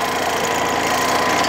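An older Toro Proline 724 Z zero-turn mower engine idles with a steady, rough, throbbing drone, close and loud throughout the brief moment.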